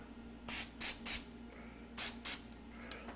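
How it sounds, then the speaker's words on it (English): Cooking spray is sprayed onto a cookie cutter for cutting Rice Krispie treats. Five short, soft hissing bursts sound close by in a quiet kitchen, three quick ones, then two more after a pause, over a faint steady hum. "we're going to spray our cutter this time"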